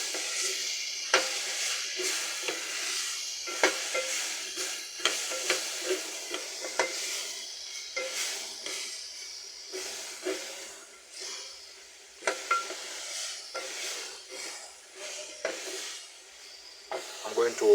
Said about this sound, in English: I'm going to brown the meat.